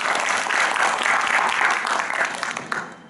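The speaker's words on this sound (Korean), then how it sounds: "다시 한번 큰 박수 부탁드립니다." Audience at a university public administration department's mock cabinet meeting performance in Seoul applauds, a steady dense burst of clapping that tapers off near the end.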